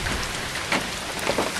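Heavy rainstorm pounding down in Padua, a steady dense hiss of rain on surfaces with no voices, close and continuous throughout.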